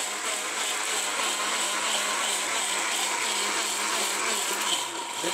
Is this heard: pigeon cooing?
no